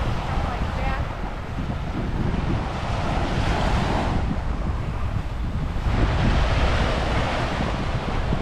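Surf rolls onto the beach at Fort Pickens in Pensacola, Florida, a dense continuous roar of breaking waves mixed with strong wind buffeting the microphone, loud and steady throughout.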